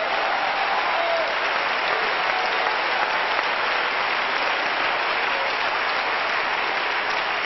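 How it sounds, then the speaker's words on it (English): A church congregation, including people up in the balcony, claps and shouts in worship at a 1993 gathering, a dense, steady wall of applause and crowd noise lasting throughout without pause. "Go ahead and clap your hands and shout, I must."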